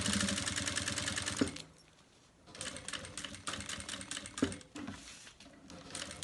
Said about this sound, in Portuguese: eu vou passar uma costura de segurança, pode ser em ponto grande, ou o próprio ponto que você já estiver costurando